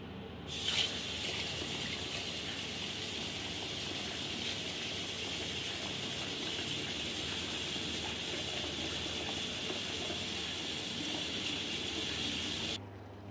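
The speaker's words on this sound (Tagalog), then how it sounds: "Kumukulo na yung ating tubig." Steady hissing, bubbling rush of water boiling hard in a pot, constant from start to finish.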